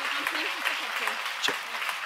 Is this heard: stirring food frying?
no